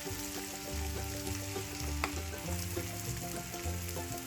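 Potatoes, onions and corned beef fry in a pan with a steady close sizzle, joined by low tonal hum and a single sharp clink partway through.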